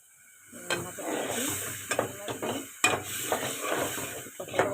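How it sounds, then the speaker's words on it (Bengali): Lentils stir-fried in a pan, with repeated close scraping strokes of a spatula over a hissing sizzle, the stirring coming in uneven bursts. "ভালো করে ডাল ভালো করে কষাতে হবে।"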